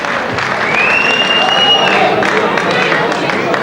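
A crowd applauds after an amateur boxing bout as the referee joins in: dense, sustained clapping mixed with cheering and a murmur of voices, close and loud throughout.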